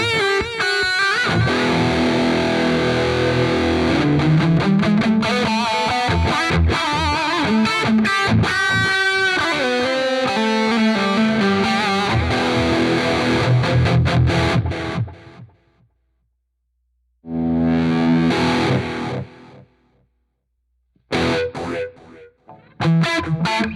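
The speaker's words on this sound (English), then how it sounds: "the parameter knob will add a phaser to the delay" Electric guitar notes ring out through a Lekato Delay Studio pedal's swirling, distorted delay with sweeping phaser tones; repeats trail off, then short bursts return after brief silences.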